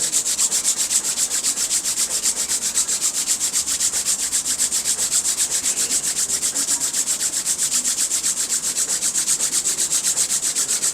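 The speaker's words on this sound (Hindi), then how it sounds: "सबसे पहले अपने हाथों को रगड़िए, एक आधा मिनट इसको अच्छे तरीके से रगड़िए।" Two palms rub briskly together close up, making a steady, fast, rhythmic swishing friction with no voices.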